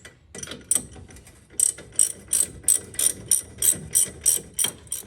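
A ratchet tightens a ball joint nut on the suspension of an S13 drift car during an angle kit install, sounding as a close, steady series of about a dozen evenly spaced metallic clicking strokes.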